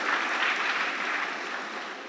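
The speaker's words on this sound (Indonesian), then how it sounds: "Tepuk tangan buat Yesus." A congregation applauds during an Indonesian church worship service, steady dense clapping that stays loud throughout, easing slightly toward the end with no talk over it.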